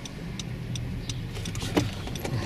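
A Mazda car driving along a road during a steering test, its steady low engine and road rumble continuous throughout, fairly quiet with a faint mechanical click near the end.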